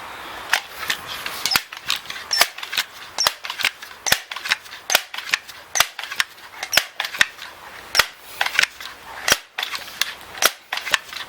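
Crosman M4-177 multi-pump .177 pellet air rifle being over-pumped, giving a long run of sharp, close mechanical clicks and snaps at a fairly steady pumping rhythm, with no talking.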